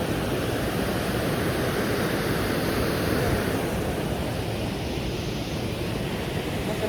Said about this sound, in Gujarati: આજે તાપીમાં પાણી છોડ્યું હોય ને એવું લાગે, કારણ કે આજે પાણી વધારે જાય છે